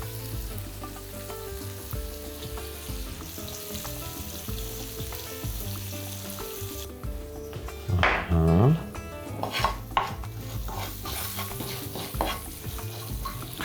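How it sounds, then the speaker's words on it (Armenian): Onions seasoned with salt and ground black pepper sizzle steadily as they fry in a pot and are stirred, with a wooden spoon scraping now and then over background music. "խառնենք կաթսայի մեջ"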